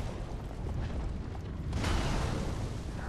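A deep, rumbling boom from an enemy's bomb in Dark Souls 3, swelling at about the two-second mark and lingering loud against dense, noisy game audio.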